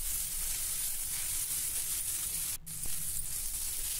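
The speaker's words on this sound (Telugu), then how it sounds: "చిక్కుడుకాయ కొంచెం వేగాలి." Boiled broad beans with salt fry in a pan over medium heat, giving a steady loud sizzle throughout with a brief stirring break partway, no talking.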